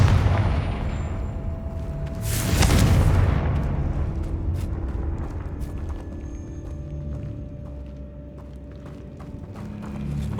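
Confringo blasting spell in Hogwarts Legacy, a single loud explosive boom with a broad rushing burst that fades into rumbling background clatter and ambience.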